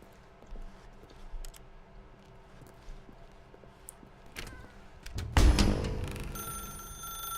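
A telephone rings in The Stanley Parable, faint and intermittent at first over quiet room tone, then a loud, close burst with a bright sustained ring near the end.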